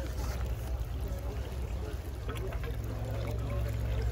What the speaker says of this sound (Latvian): Un tagad tiek abās sistēmās tiek palaists ūdens.